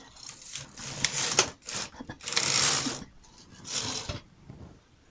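Knitting machine carriage pushed across the needle bed, knitting a row of white stitches for a pink bunny jersey: a few uneven mechanical whirring, clattering passes with short pauses between them, close up.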